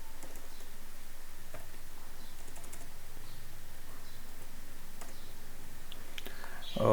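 Computer keyboard typing text into an Excel spreadsheet cell, producing soft, steady key patter and clicks throughout under a faint background hiss.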